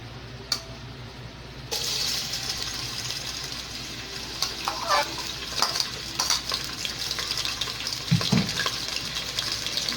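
Onion frying in hot oil for Nigerian jollof rice, a steady sizzle that brightens after the onion goes in, with intermittent scraping and clinks of stirring close by.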